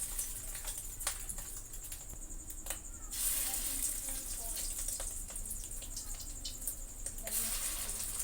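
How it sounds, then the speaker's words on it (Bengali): Fish roe fritters frying in hot oil in a kadai give off a steady, close crackling sizzle with bursts of spattering that runs through the whole stretch, with no voices. "এবার ছোট ছোট বড়ার আকারে বড়া ভেজে নেব"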